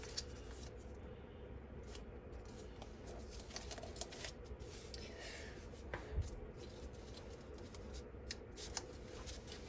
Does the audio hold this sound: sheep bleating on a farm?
no